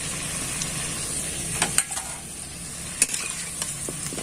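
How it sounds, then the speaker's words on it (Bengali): Two bay leaves, two dried chillies and whole cumin seeds fry lightly in hot oil, giving a soft, continuous sizzle with a few sharp clicks of a spoon stirring the pan. "তেজপাতা নিয়েছি 2টো, আর 2টো শুকনো লঙ্কা, কিছু পরিমাণে গোটা জিরে হালকা ভেজে নেব"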